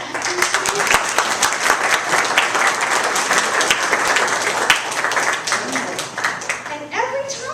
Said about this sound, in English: Can you give applause to our actors today?